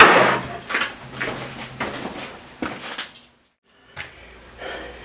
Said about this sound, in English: put this in the vise.